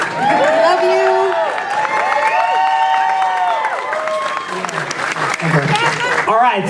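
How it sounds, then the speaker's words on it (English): Applause and cheering from a theme-park crowd at a Halloween Horror Nights 26 opening show, a loud, steady roar that runs throughout with voices and tonal sounds layered over it. "Let's give another big round of applause, ladies and gentlemen"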